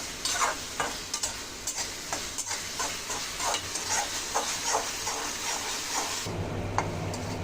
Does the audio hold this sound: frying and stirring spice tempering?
yes